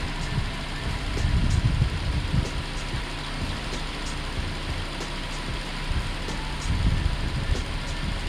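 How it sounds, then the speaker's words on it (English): A 2007 Cadillac STS with an exhaust camshaft position sensor fault code idles with a steady, even hum and soft ticking, holding level with slight swells and no shutdown heard. "I'm gonna shut the car off"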